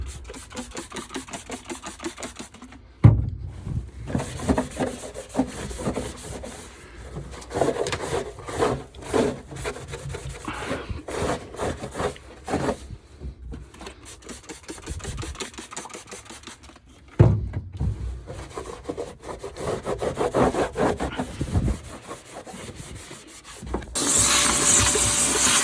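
Continuous rubbing and wiping against the hard surface of a Toyota RAV4 car trunk, scrubbing back and forth steadily with brief pauses and a few louder strokes.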